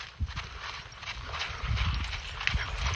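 Hooves of a horse moving on the ground in an outdoor training session, giving soft, uneven thuds and a faint clip-clop at close range over a steady background rumble, with no talking.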